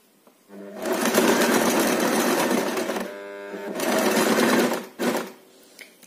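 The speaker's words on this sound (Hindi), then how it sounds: "और फिर राइट हैंड साइड दोनों अंदर की तरफ करके और उनको ऐसे सिलते हैं" A sewing machine stitches strips of fabric cut from old chinos and leftover clothes, its steady motor whir running loud and close in two long bursts with a short pause between, then a brief final run.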